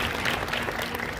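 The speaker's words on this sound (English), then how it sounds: "Big round of applause." An audience at a national conference applauds with dense, steady clapping that stays at an even level for the whole moment.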